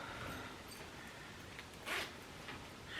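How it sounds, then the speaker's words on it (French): Zipper on a sleeveless women's dress running open or closed, a brief faint rasp that stands alone against quiet room tone. "une fermeture éclair"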